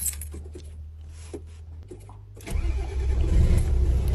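A vehicle engine is cranked with a 12/24 volt jump starter: faint, quiet idle-like hum first, then the engine catches at about the midpoint and settles into a louder, steady running rumble nearby.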